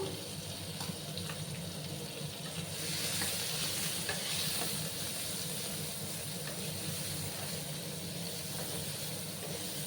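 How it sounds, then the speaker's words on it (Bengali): Potatoes frying in a pan with a little turmeric and salt, a steady close sizzle with occasional stirring scrapes throughout, swelling slightly louder midway, while preparing a Bengali rui fish curry. "লাল লাল করে আমি আলুগুলোকে ভেজে নিচ্ছি।"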